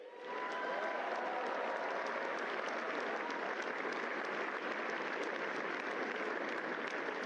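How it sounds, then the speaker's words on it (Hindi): A large audience at a youth leaders' event in Bharat Mandapam, New Delhi, claps continuously, a dense, even wash of applause that starts abruptly and holds at a steady level. "ये तालियां आपके जोश और गर्व का प्रतीक है"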